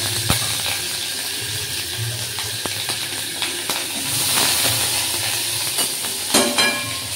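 Onions and panch phoron fry in hot oil with a steady hiss and sizzle. A spatula knocks and scrapes the pan now and then, and the frying swells louder partway through.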